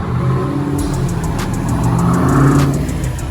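A loud Jeep engine idles and then revs up, the throaty rumble rising and falling close by.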